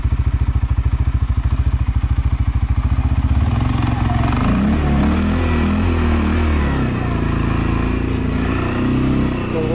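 A 2021 CFMOTO CFORCE 400S ATV pushes through deep snow in four-wheel drive. Its engine thumps in a steady loud idle, then revs and strains with rising, wavering tone close by.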